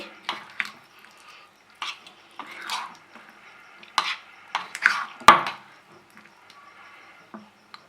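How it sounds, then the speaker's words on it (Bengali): Chopped green chillies are stirred into a chicken keema cake batter, with a spoon scraping and clinking against the bowl in irregular, close bursts and one sharp knock midway. "সবটা আমরা ব্যাটারের সঙ্গে এভাবে মিশিয়ে দেব"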